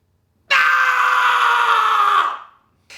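A voice imitating the oracle cry of the Pythia, the priestess of Apollo, as one loud, sustained, strained scream lasting about two seconds that cuts off sharply and fades.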